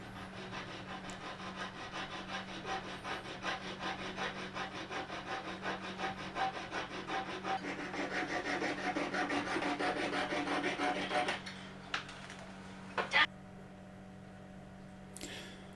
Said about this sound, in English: now we go to the jeweler's saw again.